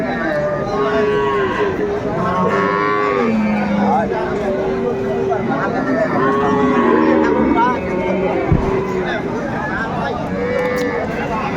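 Several cattle, cows with calves, moo again and again at a livestock market in Aftabganj, Dinajpur, some close and some farther off, over constant crowd chatter and background bustle.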